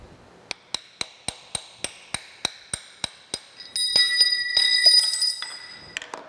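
Series of sharp metallic hammer blows on a drift, about a dozen evenly spaced strikes knocking a taper shank drill chuck out of a metal planer spindle, then a ringing metallic clatter as it drops free, a few more taps after.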